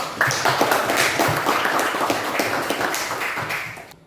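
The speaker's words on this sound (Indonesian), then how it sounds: "Tepuk tangan untuk" Classroom applause from a group of students, brisk uneven clapping close by that continues steadily for several seconds and stops abruptly.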